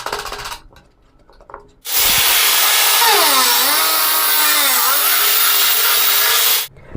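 An angle grinder fixed in a stand cuts into 1.25-inch square metal pipe. After a quiet start, a loud, harsh, grinding roar runs for about five seconds, its whine dipping and wavering as the blade bogs down, then cuts off abruptly.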